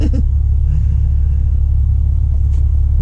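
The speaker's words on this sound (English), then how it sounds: "The thing I don't like about Detroit diesel is their noisy engines." A large Detroit Diesel truck engine idles with a deep, constant rumble, close and loud, steady throughout.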